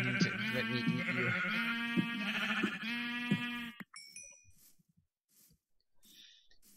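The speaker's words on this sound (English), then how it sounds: "I love you, sheep." Sheep bleating in the video game Minecraft, a few wavering, loud bleats close up, followed by faint game sounds and near silence.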